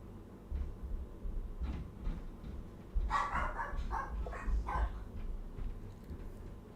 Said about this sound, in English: Every time anyone walks around in it, those dogs have to bark.